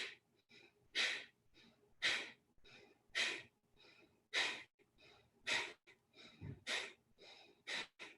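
Forceful exhalations in a belly-breathing exercise, about a dozen sharp rhythmic breath pushes roughly every half second to second, close and clear with no talking.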